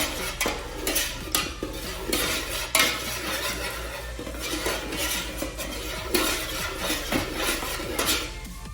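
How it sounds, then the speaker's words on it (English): A citrus lotion bar mixture is stirred briskly in a container, the utensil scraping and clinking continuously and fairly loudly in an uneven rhythm. "So just stir it in really well."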